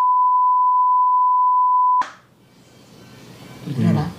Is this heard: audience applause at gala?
no